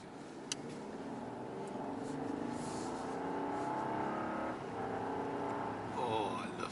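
Rolls-Royce Ghost Series II accelerating on the road, heard from inside as a faint, smooth engine hum that rises gently under road and wind noise.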